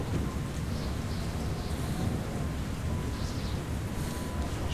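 A thunderstorm in the video game Metro Last Light: continuous heavy rain and gusting wind with a low rumbling undertone, a dense, even wash of noise throughout.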